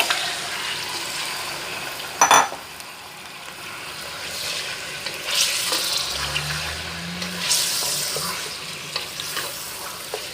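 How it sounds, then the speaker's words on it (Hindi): Chicken frying in a pot for Pakistani-style Arabic chicken biryani, a soft steady sizzle with occasional scraping stirs and one sharp clatter, heard alone without talk. "भूनेंगे इसको अच्छे से।"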